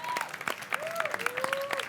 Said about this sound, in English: give Dave Pensado, the Pope of Audio, a round of applause